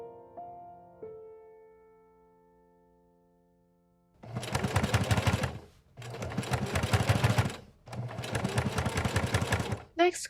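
After a fading chime, a sewing machine stitches corset side seams in three loud, steady bursts of fast mechanical chatter, each about two seconds long, separated by brief pauses.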